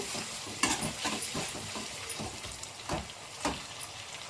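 Chopped tomatoes stirred in a pan with oil for a Nellore-style silver fish curry, a soft sizzle under repeated scraping strokes of the spoon at close range, fairly quiet and with no talking.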